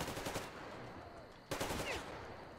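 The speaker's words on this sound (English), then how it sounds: "You shooting at me, bitch?" Automatic gunfire from pirates in the video game Metro Exodus, rapid bursts that rattle on through the clip, with a sharp louder volley breaking out midway, fairly close and loud.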